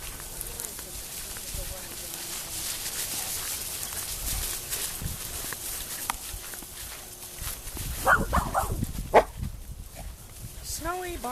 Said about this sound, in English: Snowy barks at, well, let's just say nothing.